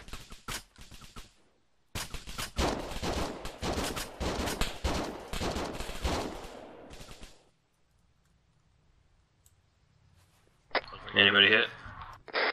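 Gunfire in the video game Arma 3: a rapid volley of sharp overlapping shots for several seconds, then near quiet, with a voice speaking at the end.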